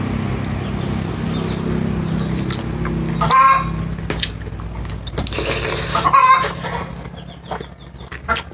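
Chickens cluck and squawk outdoors in a moderately near flock, with a few louder calls standing out over a steady low background hum.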